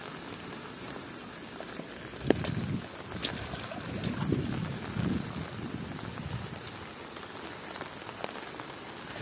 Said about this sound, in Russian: вся эта вода устремляется вниз к Кубани